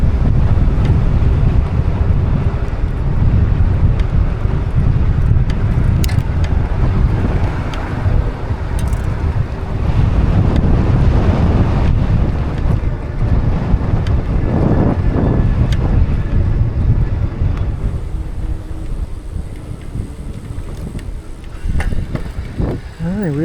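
Strong wind buffets the microphone during an Aventon Aventure 2 e-bike ride outdoors, a loud continuous low rumble lasting throughout and easing slightly toward the end.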